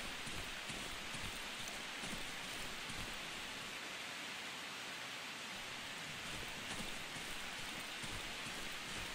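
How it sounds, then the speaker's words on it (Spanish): Steady rainfall in the video game Darkwood, a constant dense hiss of rain on surfaces, even and unbroken, heard alone without talking. "El ruido de la lluvia, cómo está hecho,"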